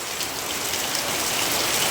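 Heavy rain pours steadily on a village, a dense, even hiss of drops hitting surfaces close by with no pauses and no voices.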